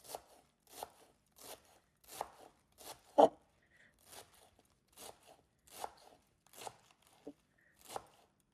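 A knife chops homegrown spinach, stems included, on a board in a steady series of about a dozen crisp cuts, roughly one every three-quarters of a second, with one heavier thunk partway through.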